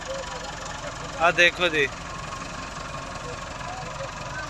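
A 385 tractor idles with a steady low rumble while a chopper machine is unloaded from a trolley; someone talks briefly over the engine hum.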